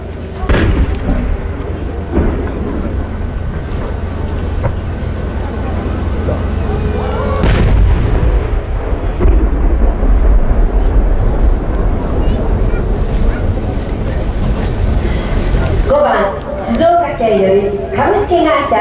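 Fireworks bursting at the Yatsushiro fireworks festival's opening competition, a loud, continuous stretch of booming and crackling outdoors, with a sharp burst partway through and a fresh cluster of crackles near the end; voices are also present.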